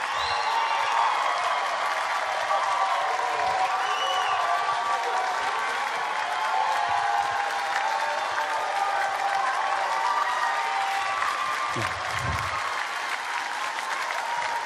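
Loud, sustained audience applause with crowd cheering at the Jeux de la Francophonie 2013 competition in France, acclaiming a Haitian contestant; dense continuous clapping fills the whole span at a steady level.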